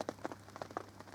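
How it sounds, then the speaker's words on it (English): Rain beginning to fall on a carp fishing lake with a drop in temperature, scattered drops pattering softly and irregularly on nearby surfaces over a faint low hum. "the rain that's been forecast, along with the drop in temperature, has just started happening"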